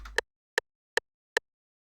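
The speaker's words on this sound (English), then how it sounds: "I took a rim shot, which is obviously the side of a snare" Four sharp, dry cracks of a snare rim shot in FL Studio, evenly spaced about every 0.4 seconds, loud and close, with silence between hits.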